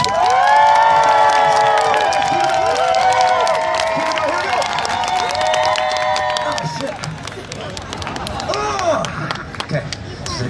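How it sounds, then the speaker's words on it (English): Street performance audience in London giving a big, loud cheer, many voices shouting and whooping together at close range, tapering into scattered yells and chatter toward the end. "Big cheer, but like a good one. Like a solid, good, loud, proud, fun cheer"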